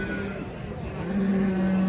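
A cow moos at a livestock bazaar in Kokand, a low drawn-out call that swells louder partway through, with faint market chatter and crowd noise around it.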